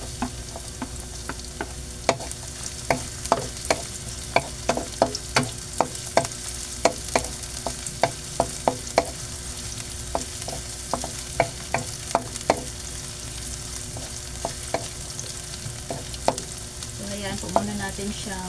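Onions fry in a pan for sweet and sour grouper, a soft continuous sizzle punctuated by a long run of sharp, fairly regular spatula scrapes and taps against the pan.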